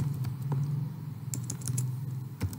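Computer keyboard keys tapped while typing vendor details into an MS Word purchase order form, a few scattered quick clicks over steady low room hum, no talking.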